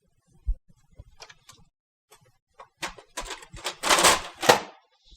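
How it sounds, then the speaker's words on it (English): Paper tray pushed back into an HP M630 laser printer: a few light plastic clicks and taps, then louder sliding rattles and a firm clunk as the tray seats, close up. "you can reinsert the paper tray"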